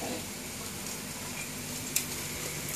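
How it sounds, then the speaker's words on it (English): Yellow noodles sizzle and fry in a wok for Singapore Punggol mee goreng, a steady broadband hiss with a brief clink near the end, no talk. "This is the time you add your yellow noodles."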